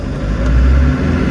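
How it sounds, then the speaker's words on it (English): A 1995 Land Rover Defender 110 with the 300Tdi diesel pulls through the gears, a loud close engine rumble swelling briefly as it accelerates. "Let's go through the gears one more time."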